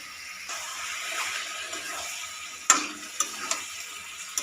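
Chicken kosha frying in a pan after a splash of hot water, with a steady hiss followed by several sharp, close scrapes and taps of a spoon being stirred through it.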